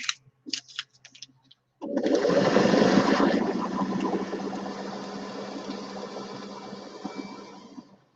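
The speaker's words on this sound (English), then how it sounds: "I need to sew a little bit deeper seam on that one." A sewing machine stitching quilt strips runs in one continuous burst after a few short taps, its steady whirring motor loud at first and gradually easing off.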